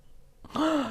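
A person briefly imitates a grandfather's snoring with a single short voiced breath that rises and falls, close and clear after a moment of near silence.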